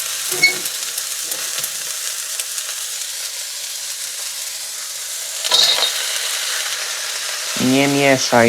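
Vegetables such as carrot and courgette fry in a pan on a burner with a steady, fairly loud sizzle throughout, broken by a few brief clatters and a short tonal sound near the end.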